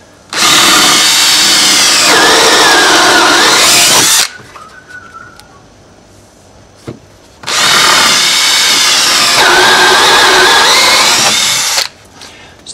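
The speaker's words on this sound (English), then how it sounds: "So that's the counterbore tool" A counterbore drill bit boring into a decking board runs in two loud, steady bursts of about four seconds each, separated by a quieter pause with faint handling noises.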